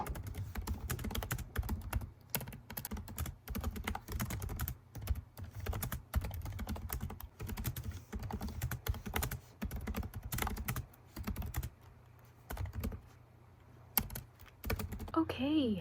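Fingers type quickly on a computer keyboard at a desk, a close, continuous patter of key clicks in uneven bursts with short pauses, running throughout.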